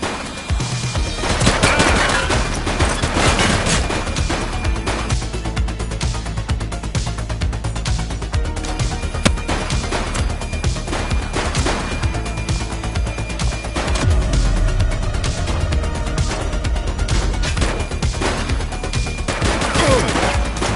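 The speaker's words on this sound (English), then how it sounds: "She's shooting!" Sustained gunfire in the video game The Precinct, rapid bursts and single shots layered over a dense game soundtrack, loud and continuous throughout.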